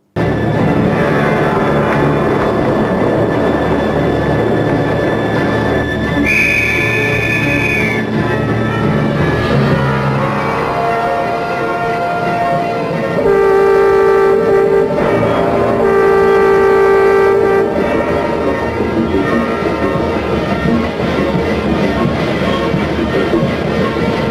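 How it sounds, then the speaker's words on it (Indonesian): A train at Bintaro, Indonesia, rumbles steadily along at speed with a constant heavy roar, with long tonal horn blasts sounding over the noise partway through. "Pak Selamat terus menjalankan keretanya bahkan dengan kekuatan yang cukup cepat ya."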